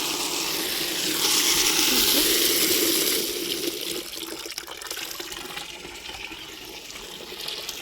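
Water runs steadily from a tap or hose for watering plants, a loud continuous gush that eases to a softer, lighter flow about halfway through, with no talk.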